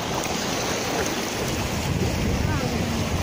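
Sea waves at Anapa on the Black Sea wash and roar continuously, mixed with strong nord-ost wind rumble buffeting the microphone; no clear voices.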